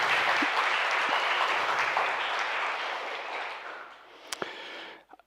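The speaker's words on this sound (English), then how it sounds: "So I think a huge round of applause is in order." An audience at the Front End North conference gives a sustained round of applause that swells and then fades out, ending with a few isolated claps.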